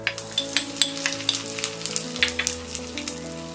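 Asafoetida and cumin crackle in hot ghee for a green moong dal tempering, a close, steady sizzle dotted with quick sharp pops over a low hum, with no voices.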